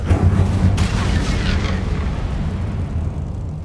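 A fire spell cast in Hogwarts Legacy erupts in a loud, close roaring burst that swells at once and then rumbles steadily for a few seconds, with no voices over it.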